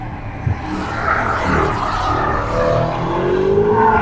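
A Mercedes-Benz CLA35 AMG runs over race track kerbs, its engine loud and close with a sharp bump early on and a sustained roar that builds toward the end.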